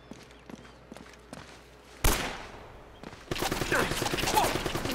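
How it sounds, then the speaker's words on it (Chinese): In the video game Uncharted, sparse distant shots and clatter give way to a loud burst and then sustained rapid machine-gun fire that dominates the final two seconds. "感觉又是机枪哎"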